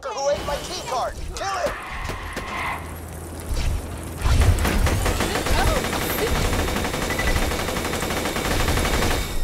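Gunfire in the video game Borderlands: The Pre-Sequel, loud and continuous bursts over the second half with mechanical clatter, mixed with game sound effects and music.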